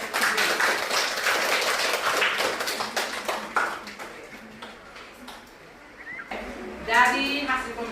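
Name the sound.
classroom applause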